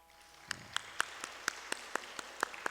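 Faint, slow applause for a speaker's supporter at a gathering: about ten sharp, evenly spaced claps, like one or two people clapping in a quiet room.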